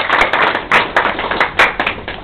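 Applause from an audience at a Guinean embassy reception in Brussels: a steady wash of clapping with several louder surges, close and filling the room.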